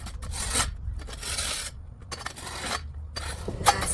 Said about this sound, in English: Now don't over scrape between, because there is sand and other stuff